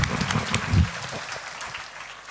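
A seminar audience gives a patterned group clap on cue, rhythmic bursts of hands in the first second that thin out into softer scattered claps and room noise.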